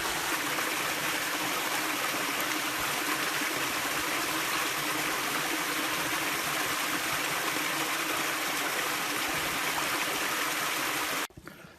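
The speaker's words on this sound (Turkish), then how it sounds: "Bu Dombay Deresi yani e, bu da Darlık Barajı'nı besleyen kollardan bir tanesi." Dombay Creek, a stream feeding Darlık Dam near Şile, flows in a steady, dense rush of water, close and continuous, with no talk, until it stops abruptly at the end.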